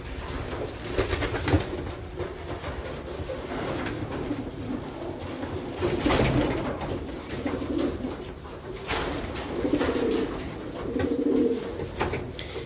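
Racing pigeons coo in a loft as a gentle old red cock settles in, soft repeated rolling coos rising and falling over a steady background of rustling and shuffling birds.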